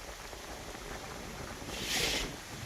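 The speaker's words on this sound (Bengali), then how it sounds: "প্রচণ্ড বৃষ্টি," Heavy rain falls steadily over open fields where farm workers stand idle, a continuous loud wash of hiss that swells briefly brighter near the end, with no voices.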